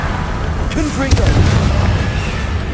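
A Confringo fire spell goes off in the video game Hogwarts Legacy, a loud booming blast with rumbling low energy over dense battle noise, and a voice shouts during the fight.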